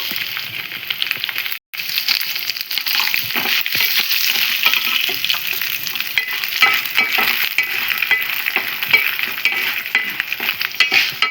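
Cumin seeds and dried red chilies frying in hot oil in a pan, a loud continuous sizzle and crackle close by with a brief break near the start, no talking.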